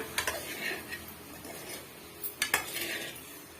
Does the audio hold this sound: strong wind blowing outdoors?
no